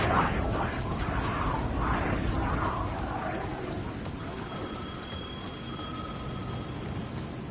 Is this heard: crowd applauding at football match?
no